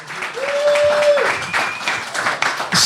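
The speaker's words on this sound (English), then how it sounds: "Let's give him a round of applause." Round of applause from a crowd at a Cheltenham Festival racing preview event, steady clapping throughout the clip with some voices and chatter mixed in.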